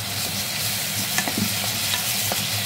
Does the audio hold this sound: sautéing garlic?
yes